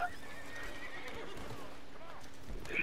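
A horse neighing in a video game, a close whinny with hoof clatter, heard amid game ambience with a player's voice around it.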